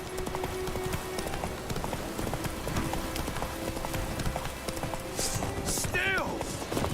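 Rapid hooves of a galloping horse in a video game clatter continuously in a quick rhythm, with a short whinny-like call near the end.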